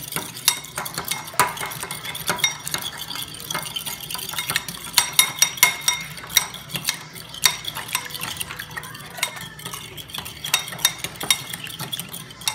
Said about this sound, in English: you are going to stir this up, make sure it gets to a nice yellow color